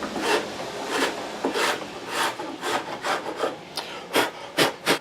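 Hand file rasping a bevel onto the wooden binding ends of a guitar fingerboard, a series of short, close, dry strokes in an uneven rhythm with brief pauses, no talking.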